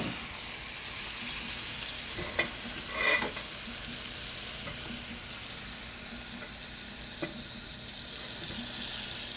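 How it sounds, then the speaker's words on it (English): Water poured into a hot pot of pumpkin and chicken sizzles and hisses steadily, with a few brief clinks and stirring sounds, fairly quiet and close. "Gonna add a little bit of water."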